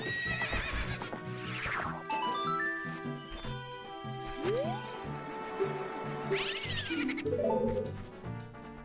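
Horse in the video game Ocarina of Time neighs near and loud, a rising then falling whinny over steady game music and clip-clop hoofbeats, with a second bright whinny late on.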